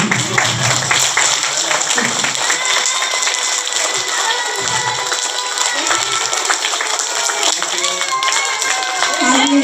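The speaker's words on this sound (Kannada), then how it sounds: "ಎಲ್ಲರೂ ಚಪ್ಪಾಳೆಯ ಮೂಲಕ ಅವರನ್ನು ಸ್ವಾಗತಿಸಿ" An audience at a school Kannada Rajyotsava celebration claps steadily to welcome the school head onto the stage, a dense, loud wash of applause that lasts throughout.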